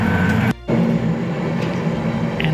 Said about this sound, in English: Fairly basic train, but it does the job.